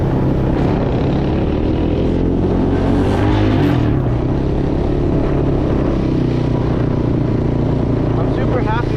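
A 250cc four-wheeler ATV engine drones loudly and steadily on a trail ride, with someone talking over the engine noise throughout.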